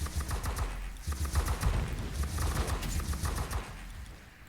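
Machine gun fire in the Warhammer 40k: Inquisitor - Martyr video game, a dense continuous rattle of rapid shots under a low rumbling din, staying fairly steady and loud throughout.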